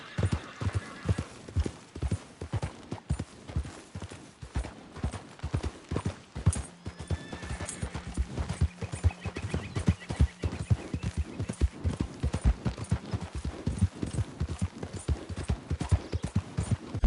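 Horse hooves clip-clop in a steady, brisk rhythm as the animal is ridden, close and loud throughout, with an occasional whinny and no talk over it.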